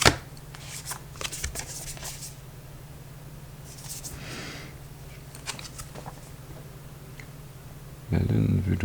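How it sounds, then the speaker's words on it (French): Moonology oracle cards are shuffled in crisp bursts of riffling and flicking near the microphone, ending in a louder clattering burst, with a low steady hum underneath. "on va sortir une carte d'oracle Moonology"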